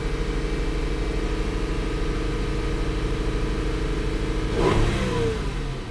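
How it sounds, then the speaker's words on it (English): A 2001 Honda Accord EX V6 engine, after misfire repair, hums at a steady held rev with a rough, pulsing tone, then briefly swells louder near the end before settling. "Let's rev it up and hold the RPMs."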